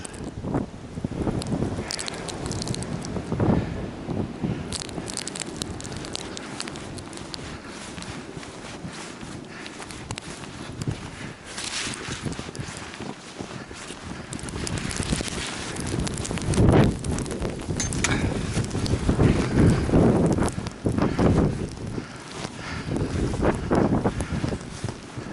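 Blizzard wind in Buffalo, New York, roaring steadily and buffeting the microphone with a dense rushing noise that swells louder in the second half, with scattered thumps and rattles and no speech.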